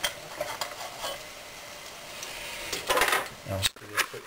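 Almonds simmer in olive oil in a pan over an alcohol stove on the trail, giving a soft sizzle with clinks and stirring noises, while a voice talks over it.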